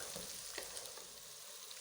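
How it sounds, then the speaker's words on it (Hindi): Garlic and ginger frying in a pan while being stirred for a chicken curry: a faint, steady hiss of sizzling oil with soft scraping and stirring ticks, close and continuous, with no talk. "उसको तकरीबन 3 से 4 मिनट तक हमने भूनना होता है ताकि लहसुन और अदरक की स्मेल ख़त्म हो जाए।"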